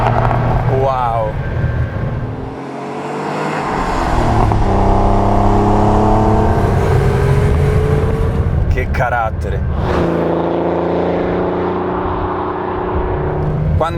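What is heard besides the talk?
Porsche 911 Turbo 3.3 (930) accelerating with turbo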